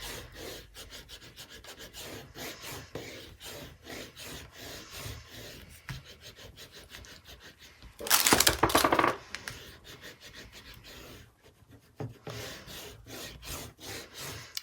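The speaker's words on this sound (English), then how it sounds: "I'm going to give this a really good burnish just to make sure that tape is really adhered" Double-sided tape is burnished onto a fabric planner cover, giving quiet, close rubbing and scratching strokes in a rapid rhythm, with a louder, brief rasping burst midway.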